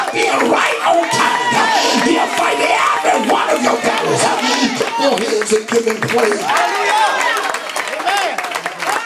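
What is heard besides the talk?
congregation clapping and cheering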